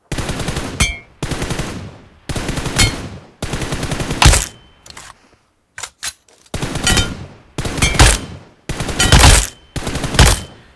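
Automatic rifle fired in long sprays through a red dot sight in PUBG Mobile, loud rapid bursts repeated about eight times with short gaps between them, no talking.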